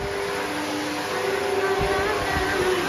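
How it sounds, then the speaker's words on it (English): A vacuum cleaner runs continuously while hoovering a room, giving a steady, fairly loud motor whine and airy rush with faint tonal hum throughout, with no talking. "we need to carry on hoovering"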